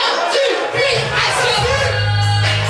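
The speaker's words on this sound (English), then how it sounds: "Give them a round of applause." A live crowd cheers and applauds a band at a music concert, a dense, steady roar of clapping and shouting that lasts throughout, with a low musical hum rising near the end.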